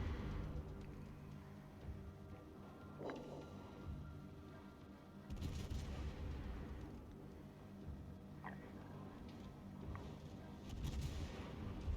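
Heavy naval guns on the battleship Des Moines fire in a naval combat game, a few deep booming shots rising over a constant rumbling engine and ambient drone, spread through the stretch with no talking.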